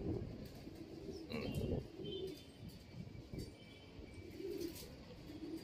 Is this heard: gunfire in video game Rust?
no